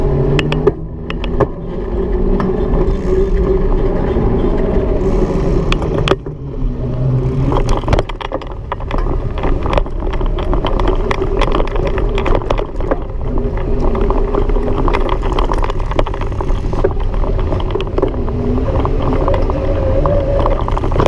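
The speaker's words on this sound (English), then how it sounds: "Start to hear the motor a little bit more here. Putting it to work." A Bulls E-Stream EVO 3 Carbon 27.5 Plus e-bike motor works under pedaling, a steady mechanical drone mixed with loud wind and road rumble that runs continuously throughout.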